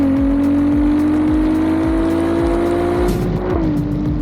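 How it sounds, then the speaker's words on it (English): A Ferrari 296 GTB engine and exhaust accelerate hard, the loud steady drone climbing in pitch through repeated gear changes, with a brief dip near the end, heard close and continuous without talk. "this exhaust sounds so good"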